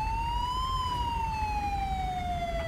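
Ambulance siren from a BMW emergency vehicle in GTA 5 on PC, a single long wailing tone that slowly rises and then falls, steady and fairly close, under a low engine rumble.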